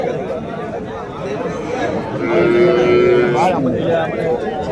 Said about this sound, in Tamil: சும்மா பெரிய பெரிய காளைங்க ஒரு ஜோடி.